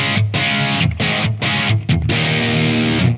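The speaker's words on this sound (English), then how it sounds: "set up a regular distortion tone, like what I've got right here" An electric guitar plays through a Blackstar AMPED-1 100-watt pedalboard amp on a regular distortion tone with the reverb turned down, loud chords struck in several short separated bursts, then a longer held chord.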